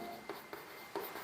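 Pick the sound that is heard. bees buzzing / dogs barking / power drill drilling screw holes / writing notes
writing notes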